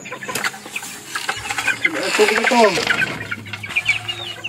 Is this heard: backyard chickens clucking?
yes